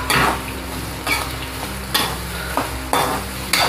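Onions sauté in a pan for rava upma, a constant close sizzle broken by about five regular stirring scrapes, roughly one each second.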